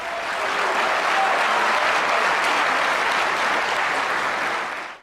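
A large audience at a talk by Zakir Naik gives loud, dense applause that stays steady throughout, then cuts off abruptly at the end.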